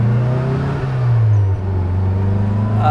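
A 1966 Austin Mini Moke driving along, its small engine droning loud and close in a steady hum with a slight shift in pitch partway through, and no voices.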